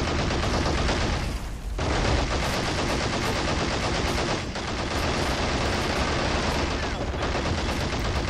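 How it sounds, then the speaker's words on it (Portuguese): Dense, continuous automatic gunfire in the video game Men of War: Assault Squad 2 roars throughout, loud and close, with brief lulls in the shooting. "Disparos aqui, ó."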